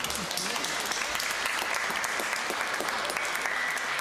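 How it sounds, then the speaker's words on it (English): A church congregation applauds a man for his donation during a Sunday homily, a full, even stretch of clapping filling the space for several seconds with some voices beneath. "Guys, you want to give a round of applause to Jude?"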